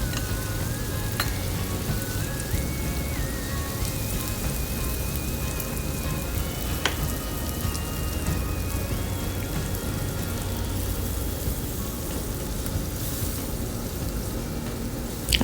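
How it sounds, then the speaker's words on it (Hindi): Flour roasting in a pan gives a continuous, even sizzling hiss, steady and close throughout with a couple of faint tings, and no voices. "मैदा डाल के भी हम थोड़ी देर उसको भूनेंगे"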